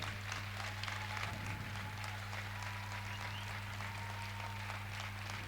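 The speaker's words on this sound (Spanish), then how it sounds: "un fuerte aplauso a su palabra" Faint, distant applause from a church congregation, a soft continuous patter of clapping under a steady low hum.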